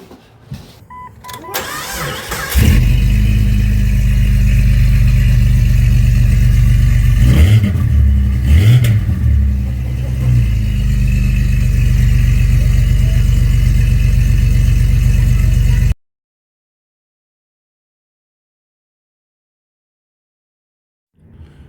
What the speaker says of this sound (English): So we're gonna go ahead and do a test fire with a muffler and make sure we have a quieter Jeep now.